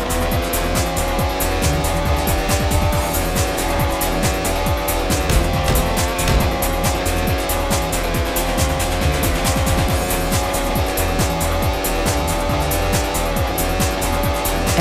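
A race car in a retro racing video game accelerates with a constant buzzing engine whine that climbs and resets through gear shifts, alongside intermittent tire squeal and steady game sound effects, loud and continuous with no talking.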